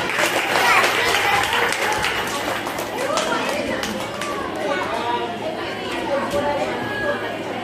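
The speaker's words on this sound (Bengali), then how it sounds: "সবাই একটুখানি হাততালি দিয়ে উৎসাহিত করুন" Audience applause at a school Teacher's Day event, a broad scattered clapping from a crowd mixed with chatter and voices, moderately loud and sustained throughout.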